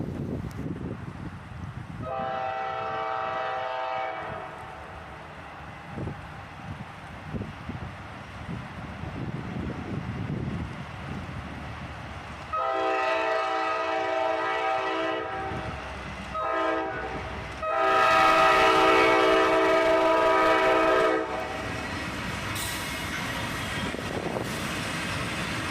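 An auto rack freight train led by a single ES40DC locomotive passes with repeated loud horn blasts over a steady rolling rumble of wagons, the horn swelling strongest near the middle and end.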